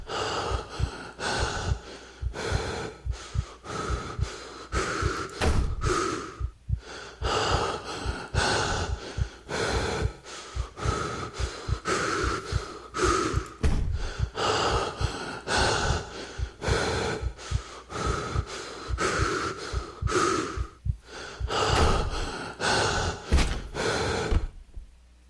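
Heavy, rhythmic breathing from the horror game The Last Door, with gasps and snorting breaths repeating steadily and close throughout.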